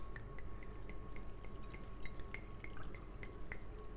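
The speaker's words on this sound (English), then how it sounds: "I'm going to take the brandy and just pour that on." Brandy pours into a glass jar packed with hawthorn berries, a quiet steady trickle with soft dripping and splashing against the fruit and glass.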